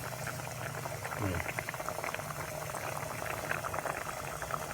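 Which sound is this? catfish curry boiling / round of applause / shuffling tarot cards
catfish curry boiling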